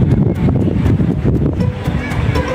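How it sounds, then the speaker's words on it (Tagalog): Strong wind buffets the microphone outdoors in Taiwan during the Moon Festival, rumbling in low gusts that rise and fall, with sharp ticks and brief bursts of speech mixed in. "malakas ang hangin"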